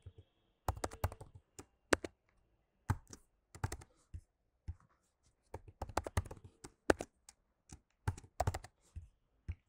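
Typing a password on a computer keyboard, close crisp key clicks in irregular bursts and short runs separated by brief pauses, quiet room, no talking.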